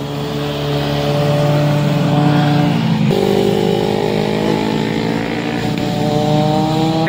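Big bike motorcycle riding past on a road, a loud, steady engine drone with a pitch drop as it passes, then a second engine note, no talk.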